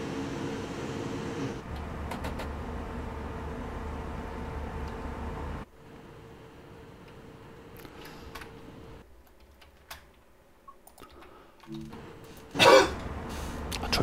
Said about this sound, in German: Entschuldigung, kleiner Huster.